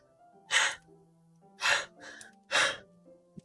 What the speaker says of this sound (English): It sounds like breathing. Sharp inhale, like someone is sucking air through their teeth.